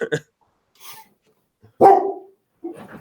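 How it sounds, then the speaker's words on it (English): A dog barks a few times nearby, short sharp yaps separated by silence, with a louder bark near the end. "There he is. Yeah, he's barking."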